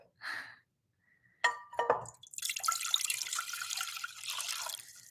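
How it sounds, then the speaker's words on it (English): Water and vinegar poured into a cooking pot, a brief splash and drips followed by a steady pouring rush that fills the last few seconds, close and moderately loud. "I pour that into a pot."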